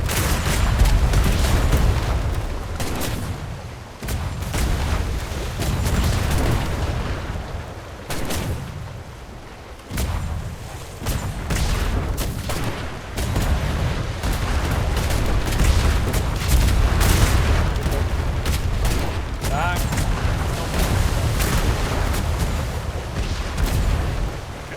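Royal Navy ship guns in a roleplay video game fire repeated heavy booming volleys, dense overlapping cannon blasts with deep rumbling low end, loud and sustained across the whole stretch with brief lulls between barrages.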